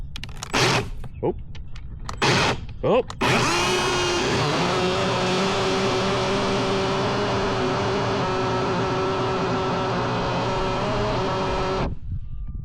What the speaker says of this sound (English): my grinder decided to explode a bearing